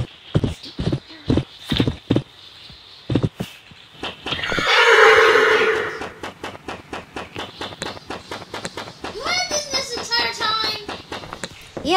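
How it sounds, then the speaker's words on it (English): A video-game horse trots with a fast, even run of close hoofbeats, breaks into a loud drawn-out whinny midway, then carries on clip-clopping, with a short high call near the end. "I'm gonna steal your horse, Gage."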